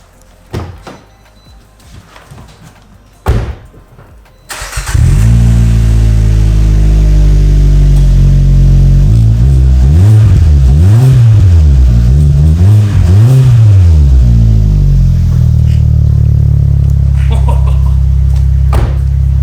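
A car engine with a Magnaflow sport exhaust cranks and fires up after a few clunks, then settles into a loud, deep sporty rumble with several rising and falling revs.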